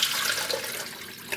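Water, three and a half cups, poured into a mixture for an open tuna pie, a close, steady rushing splash with a bright hiss, heard alone for a brief moment.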